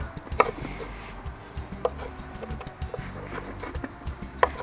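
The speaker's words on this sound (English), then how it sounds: "So I cut the habanero pepper in really small pieces" Knife chopping habanero pepper into small pieces for ceviche, a few sharp, sparse taps against a cutting board over a low, quiet background hum.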